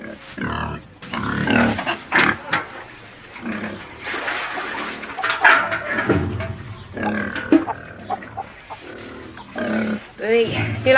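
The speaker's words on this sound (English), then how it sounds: "You like pigs, Inspector?" A pig on a farm grunts and snorts in short bursts close by, mixed in with people talking.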